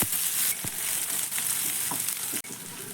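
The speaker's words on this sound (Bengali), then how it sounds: "পেঁয়াজ লঙ্কাকে একটু নাড়াচাড়া করে হালকা একটু কালার চেঞ্জ করে ভেজে নেব" Onion and green chili fry in a pan, giving a loud, steady sizzle with scattered crackles and stirring scrapes close up for about three seconds.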